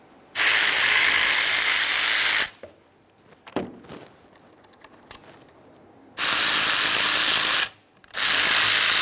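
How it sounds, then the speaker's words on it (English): Ratchet loosening 5mm Allen head bolts on the intake manifold of a 2007-2013 Acura MDX 3.7L V6: two long, loud, close bursts of rapid clicking, with a few quiet mechanical clicks and taps in the pause between them. "let's focus on removing this with a 5mm Allen head so we can replace the gasket that's located behind here"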